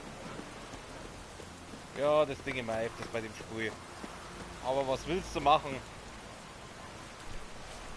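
Rain falling in The Witcher III, a soft continuous hiss in the background while people talk over it in two short bursts.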